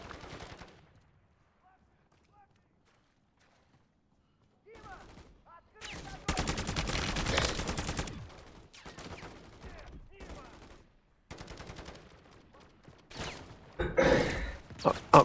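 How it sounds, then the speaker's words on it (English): Gunfire from a gun in Call of Duty Modern Warfare Zombies: after a near-silent opening, loud rapid bursts of automatic fire arrive in several uneven stretches, with scattered single shots and game noises between them. "Oh, this gun is awful at range."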